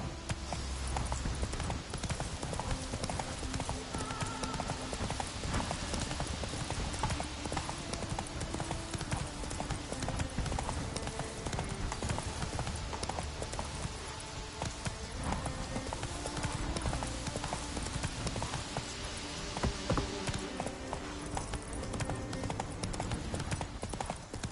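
Roach the horse in The Witcher 3 game, hooves clip-clopping in a steady rhythmic gait that continues throughout, mixed with game ambience and music, and a faint voice now and then.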